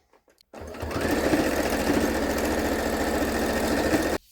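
Sewing machine running steadily after a brief pause, stitching straight across folded fabric squares to close the end of a patchwork draft stopper, a close, continuous mechanical whir with a fast even rhythm and no talk.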